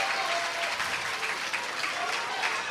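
A crowd applauds and cheers steadily in the stands at a Little League World Series baseball game in Williamsport, with the home team from Pennsylvania playing. The clapping is a dense, even wash that never lets up.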